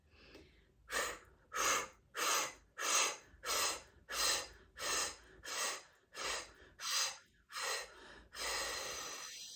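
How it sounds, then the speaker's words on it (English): Twelve rapid, forceful fire breaths during a guided meditation breathing exercise: sharp, evenly spaced whooshing exhales in a steady rhythm, close to the microphone, ending with a longer sustained breath out and no talk. "We'll do one more set together of these 12 fire breaths."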